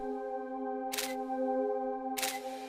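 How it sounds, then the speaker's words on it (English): Two sharp mechanical camera shutter bursts sound, each a quick clattering snap about a second apart, heard over a steady tonal musical drone. "Continuous shots are taken at a high shutter speed."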